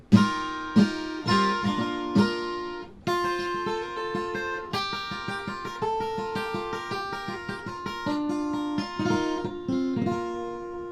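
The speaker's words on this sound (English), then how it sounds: "right now I have it stringed up Nashville style" A bright, shimmering 1983 Roadstar II acoustic guitar in high Nashville-style tuning plays strummed and picked chords alone, steady and close, with a chiming, twelve-string-like sparkle.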